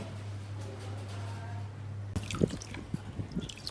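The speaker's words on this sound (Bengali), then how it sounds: "এই যে কবুতরটাকে আমি পানির মধ্যে চুবাই রাখবো" A pigeon dipped into water gives close, faint splashes and drips, a cluster of small wet sloshes following a steady low hum.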